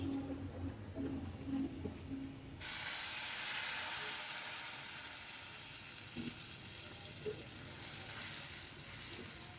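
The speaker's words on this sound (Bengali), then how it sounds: "এখন ডালটা বাগার দিয়ে দিব।" Fried garlic and onion tempering poured into hot masoor dal, bursting into a sudden loud hiss and sizzle that slowly fades, after quieter clinks and stirring beforehand.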